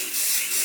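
Shoe cleaner sprayed generously onto Nike Air Max 720 sneakers, a close, continuous bright hiss from the spray nozzle lasting under a second.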